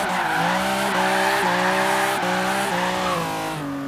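A BMW M3 E36 sliding through a handbrake drift in Forza Horizon 3: a loud, sustained tire squeal with a wavering pitch sits over a steady engine drone, close and unbroken for several seconds.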